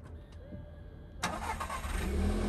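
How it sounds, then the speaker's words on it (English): A stock-exhaust Mk6 Golf 1.4 TSI engine cranks and catches, then settles into a steady, loud idle rumble that continues to the end. "Just start the car"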